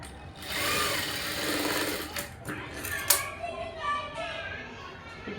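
A sewing machine stitches a blouse along a chalk mark, a close whirring run that stops and restarts, with a voice talking and children's voices in the background.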